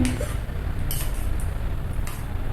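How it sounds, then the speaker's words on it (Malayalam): A spoon slowly stirs buttermilk curry in a pan, giving soft scraping and occasional light clinks against the metal, close and steady beneath a low background rumble. "ഇങ്ങനെ മെല്ലെ ഇളക്കിക്കൊണ്ടിരിക്കുക"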